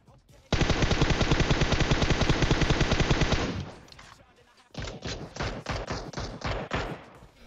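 A long rapid burst of automatic gunfire in PUBG Mobile rattles loudly for about three seconds, then a pause and a second string of heavy shots.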